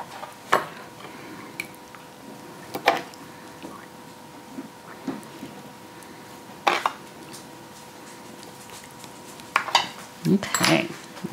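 Small serving spoon scraping and clinking against a dish while scooping cornbread-style carnivore biscuits with sausage gravy, a few sharp close metallic taps spread out across the moment with quiet between them.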